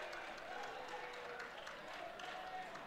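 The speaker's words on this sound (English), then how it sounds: "Can't tell who's clapping for what." Scattered applause from an audience at a card game tournament match, a steady soft patter of clapping that sounds distant and diffuse, with a faint murmur of the crowd running throughout.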